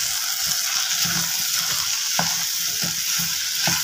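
Ridge gourd with chili, coriander and turmeric powders sautéing in a pan for a thokku, a loud continuous sizzle with repeated scraping stirs and light clinks of the spoon, no voices.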